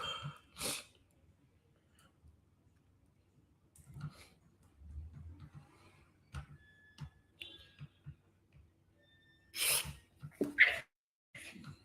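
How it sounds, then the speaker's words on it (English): Close, sharp sneezes from one person during a live women's football watchalong, a few abrupt bursts separated by long quiet stretches with faint breathing and small background noises. "I'm sneezing now."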